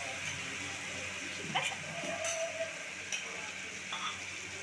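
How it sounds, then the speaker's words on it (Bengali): Pressure-boiled goat meat goes into a hot pan and sizzles softly and steadily, with a few faint clinks and stirring scrapes rising over the quiet frying hiss. "এই যেমন প্রেসারে সিদ্ধ করা মাংসগুলো আমি তুলে দিচ্ছি"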